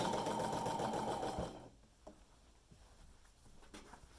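A sewing machine stitches binding onto a quilt in a steady whirring burst of about a second and a half, then stops, leaving soft fabric rustles and a few faint taps.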